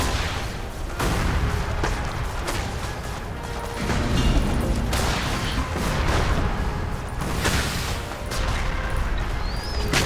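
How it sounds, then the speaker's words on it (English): Continuous heavy steam cannon fire in the strategy video game Rise of Legends booms and crashes in rapid succession, a dense loud barrage of blasts with mechanical clanking underneath. "These steam cannons are going to be absolutely perfect against aircraft."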